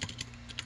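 A few quick keystrokes on a computer keyboard, entered at a desk during a coding session, come as soft, sparse clicks over a low steady hum.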